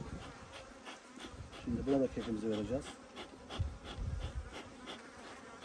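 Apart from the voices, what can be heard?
honeybees buzzing at an opened hive colony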